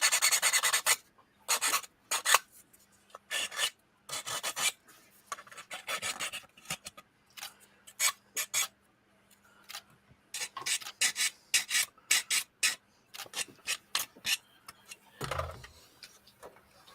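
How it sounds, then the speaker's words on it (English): Plastic locating pins being sanded down by hand, heard as bursts of dry rasping strokes in uneven clusters, close and fairly loud, with short pauses between passes and a low steady hum behind. "just sanding down the locating pins actually fixed a bunch of the gaps already on this."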